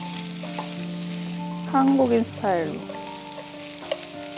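Shrimp and plenty of garlic sizzle steadily in a hot pan, with a brief louder burst of frying and stirring midway; a person speaks softly over the cooking.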